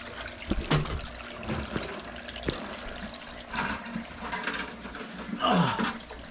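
Water runs steadily from a filter on a 125-gallon koi aquarium, a continuous splashing trickle with a few louder gurgles and bumps near the microphone, no voices.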